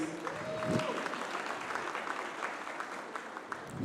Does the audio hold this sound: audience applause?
yes